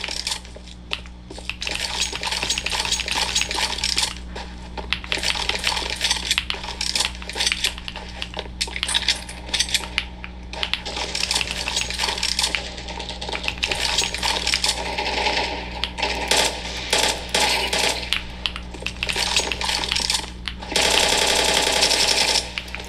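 Someone types on a Zouya HE30 keyboard, and the keys clack in a quick, dense, continuous rhythm close to the microphone. A steady low hum sits under the typing, and a louder burst of key presses comes near the end.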